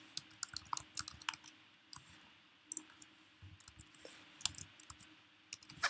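Quiet, close computer mouse clicks, a scattered series of light sharp ticks at irregular intervals over a faint background hum.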